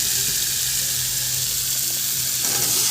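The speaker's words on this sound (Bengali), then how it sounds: "ফুলকপিটা দিয়ে ভালো করে নেড়ে নিয়ে দিয়ে দেবো আলু" Cauliflower and potatoes frying in a spiced masala for a Bengali paneer curry, giving a steady close sizzle with light stirring noises and a brief scrape near the end.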